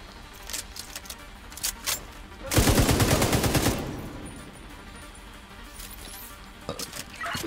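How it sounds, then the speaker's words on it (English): A dense burst of rapid gunfire erupts midway in the video game The Division 2, with scattered sharper shots and clinks before and after against a steady background hum. "Is that gunfire?"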